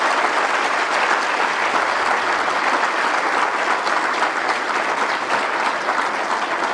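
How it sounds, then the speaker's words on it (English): A lecture audience at a public event honouring Professor Benno Ndulu breaks into sustained applause, a dense, steady wash of many hands clapping at even loudness throughout with no talk over it. "give Professor Benno Ndulu a round of applause"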